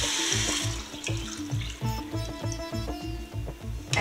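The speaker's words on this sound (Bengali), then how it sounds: "এখন আমি এই টোটাল 5 কাপ পানি দিয়ে দিব পোলাওয়ের হাঁড়ির মধ্যে।" Five cups of water are poured into a pot of pulao, a close, continuous splashing gush with a steady sloshing rhythm.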